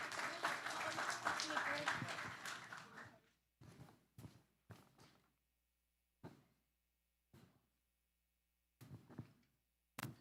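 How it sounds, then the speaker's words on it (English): Applause from a conference audience at a session on dispute settlement under UNCLOS, after a lecturer is called to the stage. Dense clapping fades within about three seconds and is followed by scattered footsteps and thuds as the speaker walks up. "A round of applause, please."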